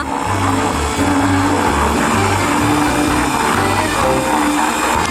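A kitchen appliance whirring with its lid closed while churning homemade ice cream, a loud, steady motor drone with a slight pulsing hum that runs unbroken from start to finish, with no voices.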